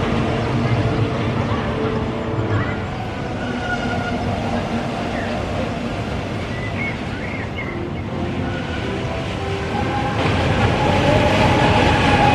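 A Grottenblitz roller coaster train at Heide Park runs past as a loud, continuous rail rumble and roar that lasts throughout, with crowd and voices blending faintly underneath.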